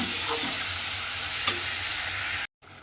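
Grated carrots and sugar cook in a pan, giving a loud, even sizzle as they are stirred, with a faint scrape or two, before the sound cuts out abruptly near the end.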